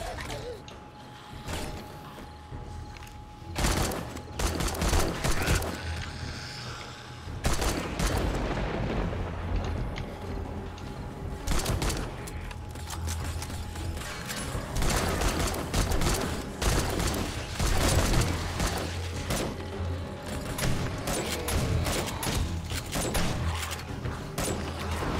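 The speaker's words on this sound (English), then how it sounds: "I hear you guys shooting" Video game gunfire during a zombie horde attack: bursts of shots and heavy booms, with mechanical clanks and creaks running through, loud and dense across the whole stretch.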